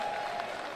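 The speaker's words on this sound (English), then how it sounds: "And we get a round of applause." Applause from a crowd at a college air rifle championship, greeting shooter Gavin Barnick, a short steady wash of clapping heard throughout at moderate loudness.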